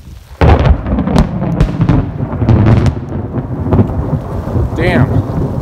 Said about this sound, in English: huge lightning strike.